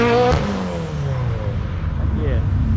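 A Mitsubishi Evo pulls away from a busy car meet, its engine revving up sharply and then fading as it drives off, leaving a rougher, lower rumble behind.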